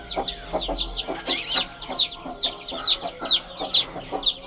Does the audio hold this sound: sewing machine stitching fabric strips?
no